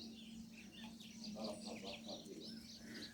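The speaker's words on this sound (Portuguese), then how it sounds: "Só ver esse pássaro cantando já é um privilégio já" Small birds chirp and twitter in repeated bright phrases at a rural smallholding, faint and moderately distant over a steady low hum and soft background noise.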